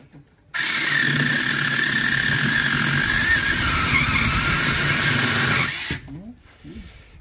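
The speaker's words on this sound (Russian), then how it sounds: "Вот для того и существуют вот эти мини-пилы" A small mini chainsaw engine starts, buzzing loudly and steadily for about five seconds, with a high whine riding on top, then cuts out to quiet talk, in snowy February weather.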